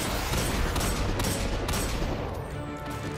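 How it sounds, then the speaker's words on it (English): Explosions and dense gunfire from a Destiny 2 grandmaster boss fight against Hashladún, with exploding thralls detonating amid the battle; a loud, continuous barrage with several sharp bursts over steady rumbling noise. "exploding thralls somewhere"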